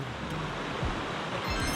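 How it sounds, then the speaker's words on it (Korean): Clear mountain valley water at the foot of Jirisan rushes in a steady, dense broadband roar, close and loud with no pauses. "시원한 계곡물 아주 깨끗한 계곡물 흐르는 것을 지금 보여드리고 있습니다"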